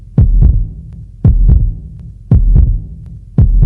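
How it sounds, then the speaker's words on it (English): A human heartbeat in a slow, steady lub-dub rhythm, four deep thumping double beats close and loud, with a low hum between them. "That steady beat you feel is the sound of life itself."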